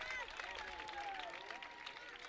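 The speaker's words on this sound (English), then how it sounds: "the applause here quite loud for good plays" Crowd applause and cheering at a minor-league baseball game between the Whitecaps and the Mariners after a ground rule double, a continuous broad wash of clapping and crowd noise with a voice talking over it.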